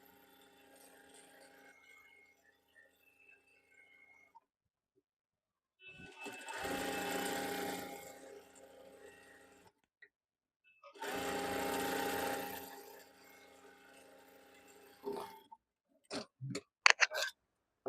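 A sewing machine stitches the hem of an Afghani trouser in two steady runs of about two seconds each, separated by a pause, followed by a few short clicks and taps.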